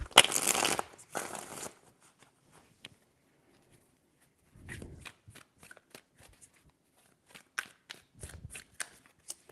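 Tarot cards are shuffled in two quick bursts at the start, followed by softer, scattered flicks and taps of cards handled in a quiet room, with another short riffle near the end.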